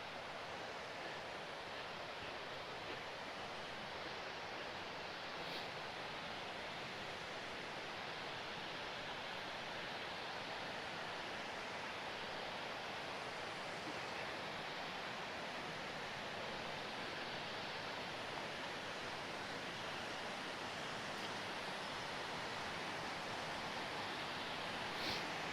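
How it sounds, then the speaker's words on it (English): A steady, broad rush of a creek waterfall fills the scene continuously on a forest trail, moderately distant and unchanging, with no voices. "You can start to hear the water"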